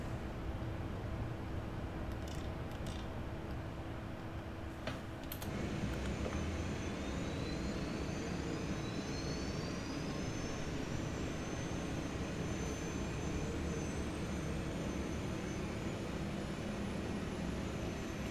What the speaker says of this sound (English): Starting 1, 2, 3 and 4 in that sequence.